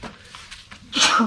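A single loud sneeze bursts out at the end after a few faint sounds, indoors in a dusty cabin during window cleaning.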